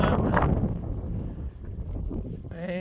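Wind gusting into the enclosure of a boat on a cold, misty day, a steady loud rushing buffeting the cover throughout, with a brief whine near the end.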